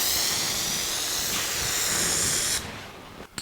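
Primer sprays in a steady, loud hiss onto the tub of a 1982 Jeep CJ7 for about two and a half seconds, then cuts off abruptly, leaving a quieter room with a faint clunk.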